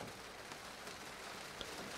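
Steady rain falls as a game sound effect in The Fruit of Grisaia visual novel, a soft continuous patter of drops on a surface, fairly quiet and even throughout with no voices.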